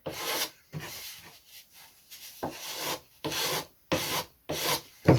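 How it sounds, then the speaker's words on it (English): Dried knifing putty on a vintage model glider is hand-sanded in short back-and-forth strokes, a close scratchy rasp coming in about eight distinct bursts separated by brief pauses. "It's sanding very nicely actually"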